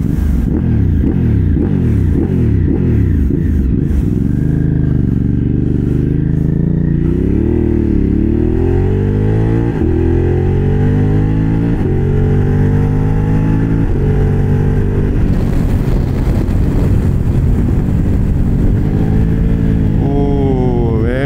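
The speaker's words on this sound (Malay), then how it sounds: "Dan lagi satu, V-Twin ni bunyi memang ngam." A V-twin motorcycle engine, a 1200cc Thrike Xcape, revs up and down repeatedly, loud and close, its deep throbbing pitch rising and falling with each twist of the throttle.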